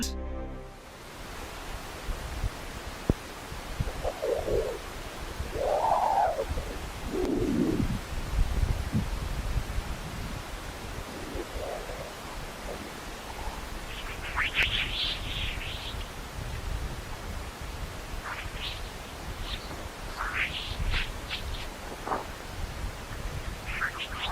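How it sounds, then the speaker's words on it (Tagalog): Odd electronic-sounding chirps and whistling squeaks from a space plasma wave recording rise and fall in pitch, scattered through a steady hiss of background noise. "Ang bawat isa ay naglalaman ng kakaibang huni at squeaks."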